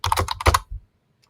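A short burst of typing on a computer keyboard as a search query is entered, about a dozen quick close keystrokes over under a second, then silence.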